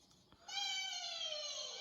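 A person imitates a cat with a single long, drawn-out meow, sliding slowly downward in pitch and sounding close and clear after a brief quiet start.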